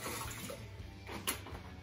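White vinegar poured into a dishwasher trap makes a quiet, steady liquid trickle and splash, faint and close, with a brief brighter splash near the end.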